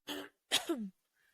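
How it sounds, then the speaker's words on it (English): Two short, raspy bursts of a person clearing their throat, close and fairly quiet, followed by near silence. "I'm going to clear my throat."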